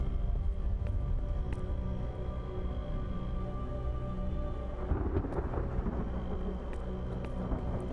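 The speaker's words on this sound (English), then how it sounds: "I'm hearing thunder" Distant thunder rolls low and long through a wash of steady rain, with a fuller rumble building partway through.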